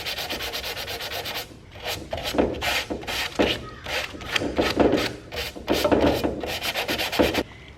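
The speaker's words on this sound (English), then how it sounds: "Now after I get done sanding this, you can see all my distressing that's happening here" Sandpaper rubs by hand over a chalk-painted metal cubby shelf, distressing the finish in quick repeated strokes, close and scratchy, with short pauses between bursts and no talk.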